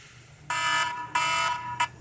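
A cooking timer goes off during a steak cookoff, with a ribeye grilling over charcoal on a PK 360 grill: three loud electronic beeping bursts, the last one short, each standing alone over a faint background hum.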